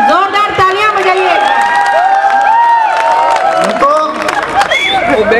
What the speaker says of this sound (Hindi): बहुत बढ़िया, जोरदार तालियां बजाइए।